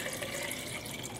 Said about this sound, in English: I added about 2 cups of water to it